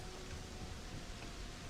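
Steady rain falls in the game Starfield around a prefabricated structure at a player's outpost: a dense, even hiss of drops that stays constant and fairly loud throughout.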